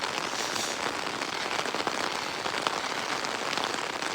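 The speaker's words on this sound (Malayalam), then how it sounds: "നല്ല സൂപ്പർ മഴ പെയ്തുകൊണ്ടിരിക്കുക." Heavy rain pours down at around 3 a.m. on a quiet side road, a dense, loud and continuous patter of drops hitting surfaces with no voices.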